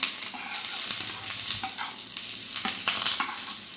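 Curry leaves sizzle and crackle steadily in hot oil for a few seconds, a close, continuous frying hiss with small pops and no talking.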